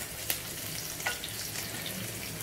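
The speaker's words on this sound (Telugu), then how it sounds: "ఇదిగో అమ్మా ఉల్లిపాయలు వేస్తున్నాను" Large onions going into hot oil with mustard seeds and cumin in a home kitchen pan, a soft continuous frying hiss with a couple of brief clinks or spatters near the start, fairly quiet, no talking.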